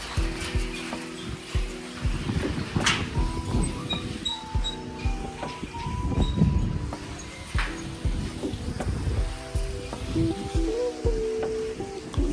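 A large river near Devchuli in Nepal rushes past in a steady, full roar of flowing water, close and continuous, with no voices over it.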